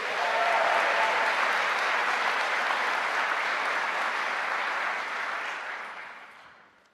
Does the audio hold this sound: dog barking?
no